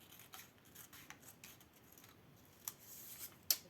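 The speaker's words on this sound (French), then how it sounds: "Et là, on va découper." Scissors cutting folded paper for an accordion-pleated pouch, giving a few quiet, separate snips and rustles close up, with a sharper cut near the end.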